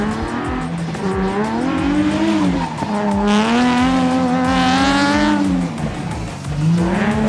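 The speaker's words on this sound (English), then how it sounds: "This is a road racing car and he's drifting." A race car drifts on a track, its engine droning and shifting pitch while tires squeal continuously, loud and close throughout.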